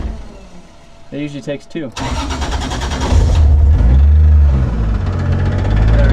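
A Toyota 2JZ engine cranks, catches and settles into a loud, steady running idle close by, with someone talking over the start.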